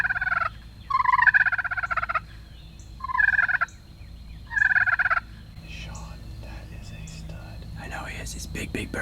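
A wild turkey tom in Kentucky woods gobbling in four loud, rattling bursts spaced a second or two apart, followed by rustling and faint whispered voices nearby.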